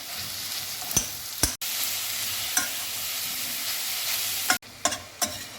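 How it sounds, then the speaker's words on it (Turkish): A continuous loud sizzle of mushrooms frying in butter in a pot, with a few sharp clicks and scrapes from stirring. "Ve kızartmaya başlıyorum."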